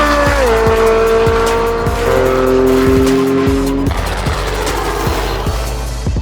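A Mercedes-AMG GT S on a race run revs hard through rising and shifting engine tones, loud and close, with tire noise and a rough roar as it pulls away.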